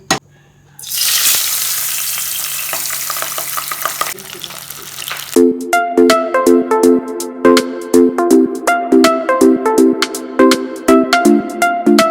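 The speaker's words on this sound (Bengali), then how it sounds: "তেলটা থেকে একদম ধোয়া উঠতে শুরু করে দিয়েছে, তো ওরকম গরম তেলের মধ্যে আমরা মাছটা ছাড়বো" A fish drops into smoking-hot oil and a loud, close hiss erupts, sizzling steadily for several seconds before rhythmic music with sharp percussive hits takes over.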